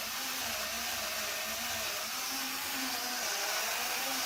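A Milwaukee power sander grinds steadily through clear coat on the car paint of a 30-year-old Dodge Stealth. The loud, continuous motor whine holds an even pitch close by, with no talk over it.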